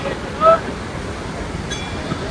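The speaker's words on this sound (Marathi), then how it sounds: "तर गाइस ही सरस्वती नदी आहे, ही डायरेक्ट जाते पाताल मध्ये." The Saraswati river rushes past Mana village in a steady, moderately loud wash of broadband water noise, with a brief whistle-like tone near the start.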